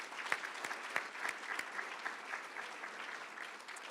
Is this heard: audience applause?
yes